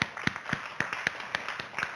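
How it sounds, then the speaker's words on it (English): A congregation at a Thanksgiving Day church service claps together, a steady run of sharp, fairly close hand claps spaced at a brisk, slightly uneven rhythm, with no talking over it. "we'll clap for everyone at once"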